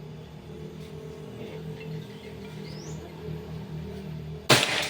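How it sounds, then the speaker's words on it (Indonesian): A Pajero Gun air rifle lets off one abrupt, nearby shot during an accuracy test, a loud crack near the end breaking a low outdoor hum and rumble. "Tembakan ketiga."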